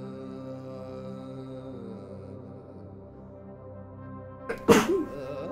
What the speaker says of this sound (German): So, ich musste ganz dringend niesen.